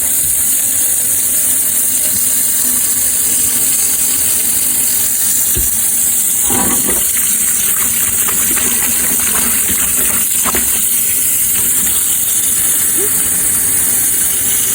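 Warm water runs from a tap into a basin for washing a crochet scarf, a loud steady gushing hiss close by throughout with a few brief splashes and knocks.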